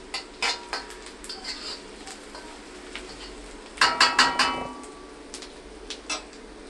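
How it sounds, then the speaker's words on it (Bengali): A utensil stirs and scrapes chopped onions frying in mustard oil in a pan, giving scattered metallic clinks and knocks with a faint sizzle beneath; a quick cluster of taps lands midway, then sparse strokes resume. "সরিষার তেল ঢেলে পেঁয়াজ কুচি দিয়েছি। এখন একটু নাড়াচাড়া করছি।"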